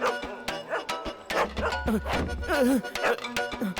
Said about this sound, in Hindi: अंदर कुत्ते की आवाज क्यों आ रही है?